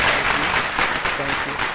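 A stage audience claps steadily at a talk event, a dense, loud wash of applause with a hint of voices underneath.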